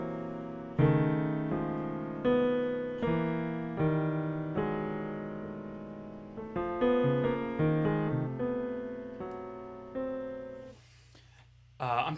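Keyboard music built on the chromatic scale, played on a MIDI keyboard through BitClavier, with repeated struck notes and chords in an uneven, wandering rhythm, loud and close, ending with a short burst of noise.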